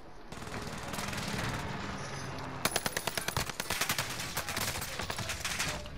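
Rapid automatic gunfire in Call of Duty Warzone, a video game, crackling in quick bursts of sharp close shots over a steady background rumble.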